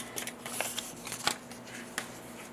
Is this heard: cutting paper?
yes